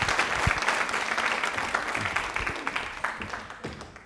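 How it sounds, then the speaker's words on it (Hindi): A studio audience claps at a Women's Day special broadcast, a thick burst of mixed applause with a few sharper individual claps poking through, gradually thinning over about four seconds. "तालियां जोरदार हो जाए"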